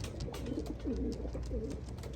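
Racing pigeons in a loft coo softly in low, throaty warbles, several overlapping calls against a faint background hum.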